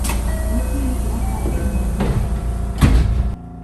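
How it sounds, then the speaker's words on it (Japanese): JR West commuter train pulling into Hyogo station, a loud steady rumble of wheels and motors filling the platform, with a brief clatter near the end before the noise drops away. "列車がやってきました。"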